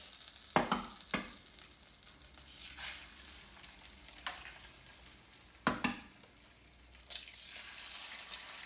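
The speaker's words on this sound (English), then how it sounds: "I'm going to pop the eggs in. So I'm going to fry 2 eggs each." Two eggs fry in a pan for chilaquiles, a faint steady sizzle broken by several sharp scrapes and knocks of a utensil stirring, close by with no talking.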